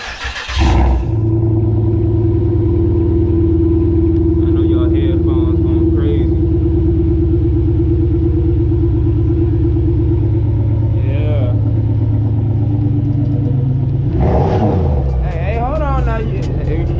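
A 2008 Pontiac GXP engine runs loud and close throughout, a deep, steady, droning rumble that holds without clear rises in pitch. A brief voice or noise sounds near the start, and faint voices come in toward the end.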